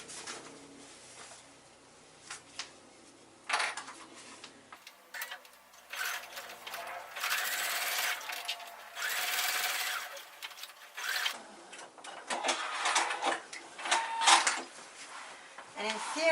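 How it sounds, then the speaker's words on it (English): A sewing machine stitches a block using the foundation paper piecing technique, in short uneven bursts of whirring and clatter between pauses, close by, with some handling noise. "now we're going to stitch this guy"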